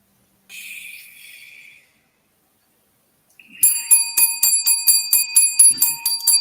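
A bright bell rings in a rapid string of about a dozen metallic dings on a talk show set, following a brief earlier chime and a pause of silence, loud and close.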